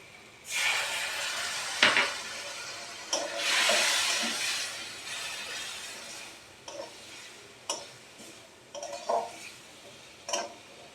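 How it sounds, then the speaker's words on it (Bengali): Ground spices spluttering in a hot pan as water is added for an aloo potol tarkari, with a loud hissing sizzle that swells and fades, then scattered sharp pops and ticks of stirring. "মশলাটা যাতে পুড়ে না যায় তার জন্য অল্প জল অ্যাড করছি"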